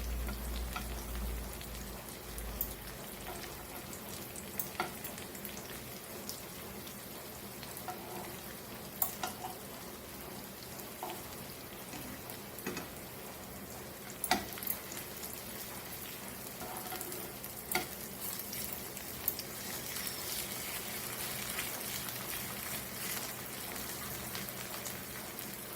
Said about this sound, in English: So fry this till golden brown, then we will flip flop it